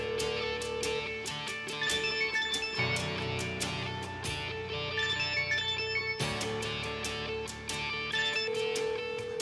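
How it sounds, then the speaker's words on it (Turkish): A mobile phone ringtone plays a repeating bright melodic pattern over steady musical backing, loud and close, looping without pause. "Aç şu telefonu aç."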